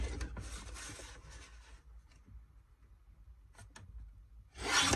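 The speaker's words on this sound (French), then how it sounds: "Je prends mes 3 bandes et je découpe." Paper strips being cut with scissors or a trimmer for a handmade birthday card, a dense rasping cut at the start, a few faint snips in the middle, and another loud burst at the end, close and without talk.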